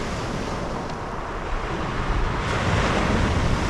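Waves break and wash along an empty beach at Sidmouth in East Devon, a loud continuous surf roar with wind buffeting the microphone that grows toward the end.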